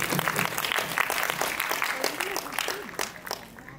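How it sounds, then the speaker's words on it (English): Warm audience applause welcoming a guest at a Diwali evening diya lighting ceremony, a dense wash of clapping that holds steady before thinning out, with voices murmuring underneath. "Let's give a warm round of applause to welcome Mr."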